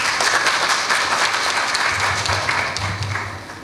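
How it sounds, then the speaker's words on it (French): A ceremony audience applauds an official installation, with a continuous wash of many hands clapping that stays loud, then eases slightly toward the end. "Sous vos applaudissements, s'il vous plaît."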